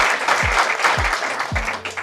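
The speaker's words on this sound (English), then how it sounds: "Please give him another big round of applause." A crowd applauds steadily at a wall-breaking ceremony for an observation unit at a medical center in Howard County: dense, sustained clapping that fills the space, with a few low thuds underneath.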